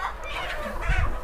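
Sonali chickens and roosters on a poultry farm give low, throaty clucks and murmurs, with a louder burst of clucking near the end against steady barnyard background noise.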